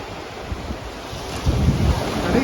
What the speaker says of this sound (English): And even the waves aren't too bad.